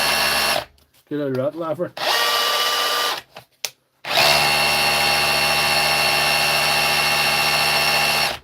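A power tool running in chisel mode, a loud harsh droning whine in long bursts broken by short pauses, with a brief spoken phrase between runs.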